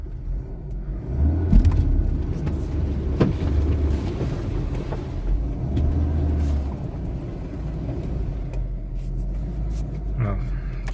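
A 1993 Volvo 240 station wagon engine rumbles steadily at close range while driving, with occasional revving swells and some background noise. No one speaks.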